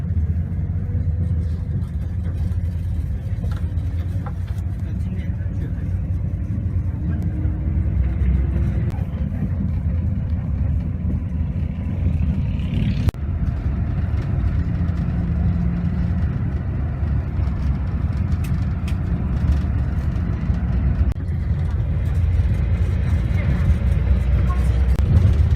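Early-morning bus ride in Guilin, China, with a steady engine rumble and road drone carrying on throughout, close and continuous, while people talk over it.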